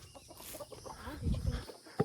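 Backyard chickens clucking softly near a coop while being let out to scratch feed, low murmuring fowl sounds building to a louder cluck at the end.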